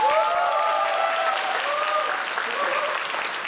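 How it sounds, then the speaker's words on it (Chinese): A concert audience gives a full, steady round of applause for a band and their guest collaborator, dense clapping with some cheering voices rising above it throughout. "大家给他们一个掌声鼓励。"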